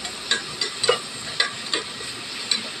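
A spoon stirs chopped tomato into vegetables frying in a pan, giving a steady sizzle with irregular scraping strokes close by and no talking.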